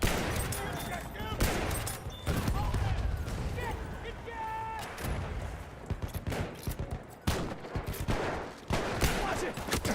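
Battlefield 1 battle with dense rapid gunfire, bursts of machine gun and rifle shots layered over each other, loud and continuous, with someone talking over the din.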